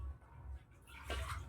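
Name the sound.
water being poured during a puja ritual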